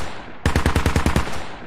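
A mounted machine gun fires one loud, close burst of about eight rapid, evenly spaced shots in the video game Squad, then the noise settles back to a steady hum.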